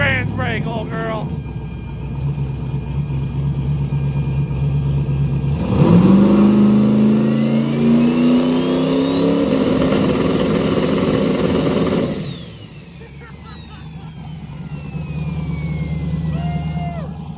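A drag race car engine revs hard on a two-step and trans brake, a loud rising roar holding at a high pitch before cutting back to a lumpy idle, with people talking and shouting nearby.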